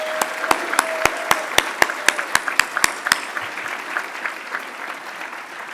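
An audience at a service excellence awards ceremony applauds the awardees, with a few loud, sharp claps standing out close by over a broad wash of clapping before the applause thins out.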